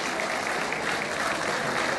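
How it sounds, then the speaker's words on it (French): At a bartending competition award ceremony, a crowd applauds steadily for a winner, with a continuous, fairly soft wash of many hands clapping at an even level. "On peut l'applaudir très fort, Charlotte."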